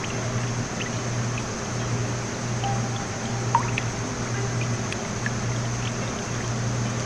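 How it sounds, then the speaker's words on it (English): Liquid drips slowly in a dark spot of the horror game demo Pretty Long Short Demo - Key. A few faint, sparse drops fall over a low, steady ambient hum. "I can't tell if that's the sound of blood dripping"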